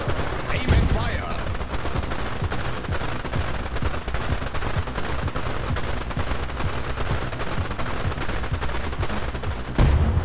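Rapid gunfire in the real-time strategy video game Global Conflagration, dense rattling bursts of machine-gun style shots continuing loud and steady throughout, with a brief voice near the start.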